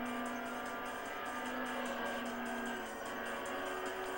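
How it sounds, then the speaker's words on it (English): A Nissan Cima's V8 engine in the racing video game Import Tuner Challenge, a steady droning engine note held at high revs with a faint tire hiss, continuous and alone. "that V8 engine does have some power to it"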